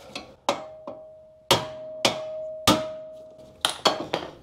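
A heavy hammer strikes a Honda Civic ball joint about nine times at uneven intervals, each blow ringing sharply and close, one leaving a sustained metallic tone.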